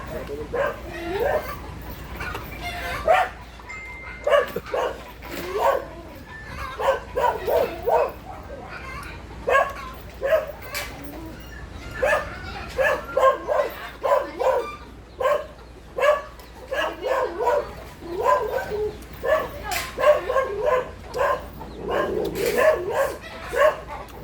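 A dog barks and yips repeatedly in uneven bursts, close by, with occasional whimpers and people's voices mixed in.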